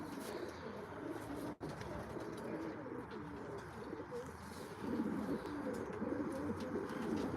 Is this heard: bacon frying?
no